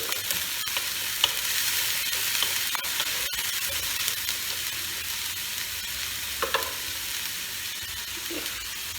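Onion paste hits hot oil in a pan for an egg korma, giving a dense continuous hiss of sizzling with occasional faint clicks, close by.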